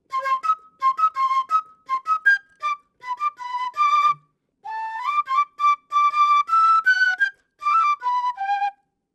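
A breathy quena flute plays quick fluttering tremolo notes in short bursts, separated by brief pauses, ending on a sustained trill.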